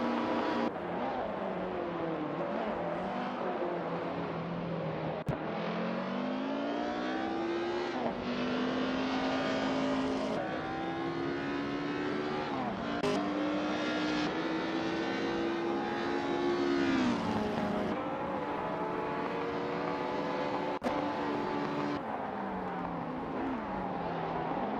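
1950s Formula One race cars in a racing simulator game on the Bahrain circuit: continuous engine drone that rises and falls through gear changes and passing cars, steady and fairly loud for the whole stretch, no voices.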